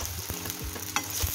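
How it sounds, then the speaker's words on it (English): Boiled potatoes frying in a pan for a burger, a steady close sizzle with a few soft clanks and stirring knocks over 1.4 seconds. "potatoes have been boiled, so I'm frying it."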